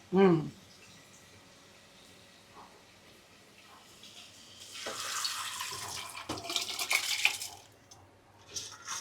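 Water is poured from a glass onto soaked old rice in a cooking pot, a splashing gush rising midway after a quiet start, with faint clinks and a knock at the opening.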